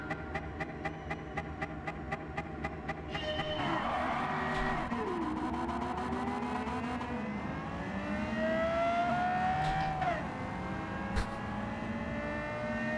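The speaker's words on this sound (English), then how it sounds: "So I've entered the car into a drag race with the new LFA engine." A car fitted with the LFA engine roars through a drag race in Gran Turismo 7, its revving engine climbing steadily in pitch as it accelerates, loud and continuous with whining gear shifts layered over the racing game's background.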